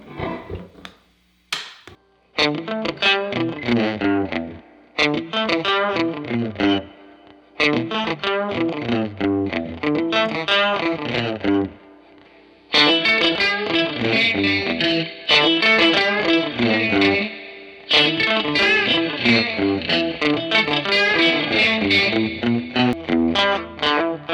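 An electric guitar on a single-coil pickup plays a bright, twangy lead through a 2019 Fender Blues Junior amplifier, phrases of picked notes and chords with brief pauses between them, loud and close.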